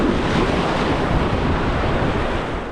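Strong surf surges around Dogheads Rock on the coast, a loud, continuous roar of churning water mixed with wind buffeting the microphone.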